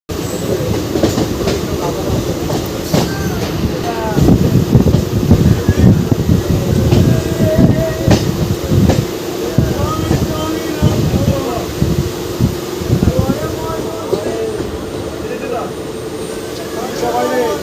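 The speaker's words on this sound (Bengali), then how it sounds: "প্রায় 3 মিনিট দেরিতে আমাদের ট্রেন ছেড়ে দিল বর্ধমান মশাগ্রাম জংশন" A MEMU passenger train, 68105 Masagram to Bankura, departing Masagram Junction, rumbles along the rails with rhythmic clickety-clack and occasional wheel squeal, loud and close throughout, with faint voices in the background.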